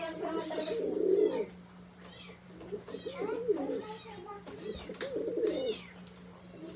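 Escaped pet pigeons coo in a repeated, throaty murmur close by, with children's voices and general chatter mixed in and a steady hum running underneath throughout.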